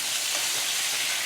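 Constant loud sizzle of chicken shawarma frying in a hot pan, a dense close hiss with no pauses or voices.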